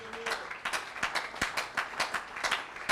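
Church congregation at a Sunday service clapping along in a steady rhythmic beat, about three claps per second, moderately close, with a faint sung note at the very start.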